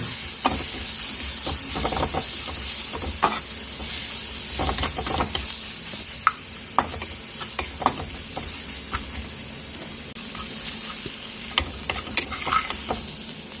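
Egg puff masala frying and being mixed with salt in a pan: continuous sizzle with frequent clinks and scrapes of a spoon stirring, steady and close.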